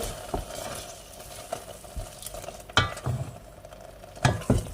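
A spicy dish with small garden chilies simmering in a pot, a soft bubbling and sizzling bed broken by irregular clinks and scrapes of a utensil stirring, close and fairly quiet, with no talking.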